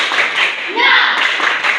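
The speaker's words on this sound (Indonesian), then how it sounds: "Tepuk semangat" A class of students claps together in rhythmic bursts while chanting in unison, the claps and voices blending into a lively group cheer in a schoolroom.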